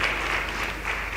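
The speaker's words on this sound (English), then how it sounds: "Another very big round of applause for the guest of honor" Audience at a memorial lecture applauding the guest of honor, a brief, loud, dense burst of crowd clapping with a full hall sound.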